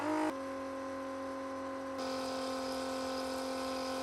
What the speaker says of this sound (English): I'm gonna do that using my vacuum pump